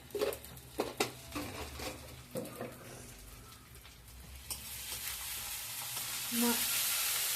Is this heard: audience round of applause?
no